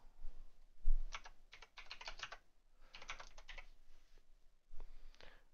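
Typing on a computer keyboard, with several quick bursts of clicking keystrokes separated by short pauses, close and moderately quiet, with no talking.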